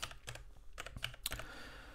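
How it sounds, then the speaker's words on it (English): Someone types on a computer keyboard while entering a search in the KDE Plasma desktop: soft, irregular key clicks in a short burst, quiet and close, with no speech. "the easiest way to do this is to start typing on the keyboard"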